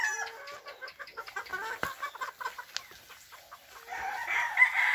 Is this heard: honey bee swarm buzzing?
no